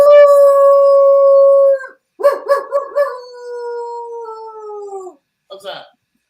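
A man imitates a wolf howl with his voice: a long sustained wavering note, a break, then a choppy yipping rise sliding into a second drawn-out falling howl, close and loud, with a brief breathy sound at the end.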